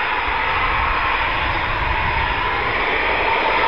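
A Eurofighter Typhoon FGR4 jet of the RAF taxis at the RAF Coningsby QRA station, a steady, loud, broadband engine roar and whine that holds without a break and has no voices over it.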